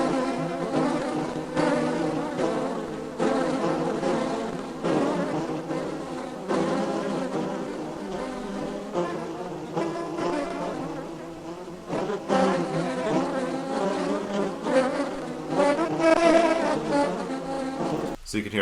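Recorded bee buzzing cut and rearranged to follow a Beatles song, giving a continuous droning hum that shifts in pitch like a melody and holds steady and fairly loud for the whole stretch.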